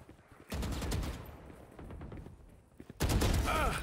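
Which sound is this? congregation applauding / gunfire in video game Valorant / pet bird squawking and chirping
gunfire in video game Valorant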